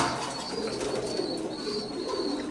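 Pigeons cooing and fluttering inside a large pigeon farm housing several breeds, a steady dense chorus of soft calls and wing rustles close by without pause.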